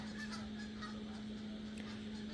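Geese honk in a few short calls over a constant low electrical hum, fairly faint and set back from the listener.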